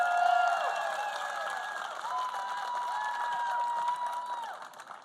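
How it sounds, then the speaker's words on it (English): A crowd at a Georgia campaign event applauds and cheers as Sheriff Ashley Polk is introduced; the steady clapping and crowd noise hold across the whole stretch, mixed with some sustained tonal sound, then fade near the end. "Give him a round of applause."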